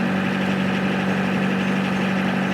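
Narrowboat engine, freshly serviced, running at a steady low throb with constant vibration, alone and moderately loud.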